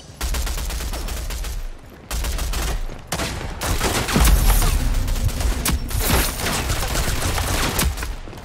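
Sustained automatic gunfire from the online shooter Rogue Company during a live match, with dense overlapping rapid bursts running almost continuously and loudly, broken by a brief lull.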